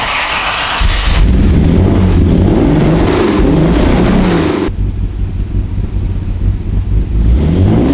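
A Jaguar XK120 engine revs loudly and close by, climbing in a steady rising roar for several seconds before dropping back to a lower, rougher idle.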